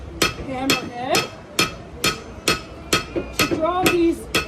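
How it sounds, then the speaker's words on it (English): A blacksmith draws metal petals thin with the rounded face of a rounding hammer, striking about ten sharp ringing blows in a steady rhythm, each hit loud and close. "we are taking a hammer called a rounder fighter, and we are using the rounded hammerhead"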